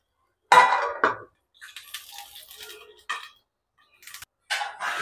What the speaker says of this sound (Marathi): त्याच्यावर झाकण ठेवते